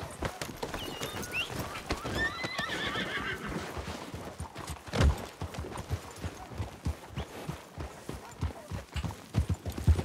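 Horse hooves clip-clop at a steady walking pace in the Western video game Red Dead Online, with a horse whinnying partway through and muffled talk faintly underneath.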